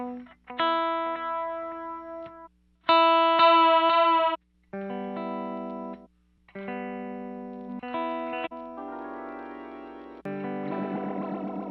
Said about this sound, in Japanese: ディレイがあったり、これテープエコーですね。